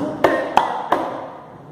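Latin percussion rhythm pattern played in a percussion class: three sharp, evenly spaced strikes ring out close and clear, each leaving a short resonant tail that fades out after the third hit.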